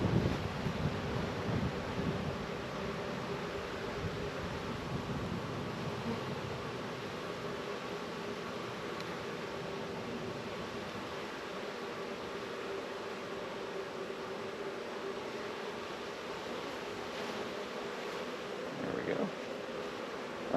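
A dense, steady buzz of a honeybee swarm being hived hums continuously, mixed with windy rumble, with a muffled voice briefly underneath.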